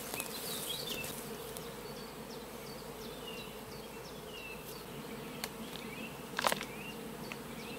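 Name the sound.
honeybees buzzing around beehive after acacia honeyflow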